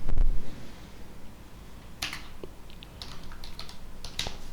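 Computer keyboard typing a Linux command during an Arch Linux install, a few quick clusters of close key clicks over quiet background hum after a brief thump at the start.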